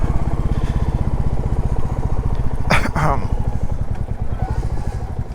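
Royal Enfield 350 motorcycle engine under way while riding, a loud, steady throbbing thump that fills the whole stretch, with a short, sharper burst of noise about midway.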